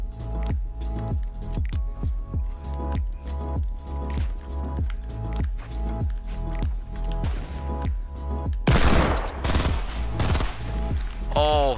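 Rapid video game gunfire, including Desert Eagle pistol shots in a 20v20 match, sounds as sharp regular cracks across most of the stretch, followed by a louder, noisier burst near the end.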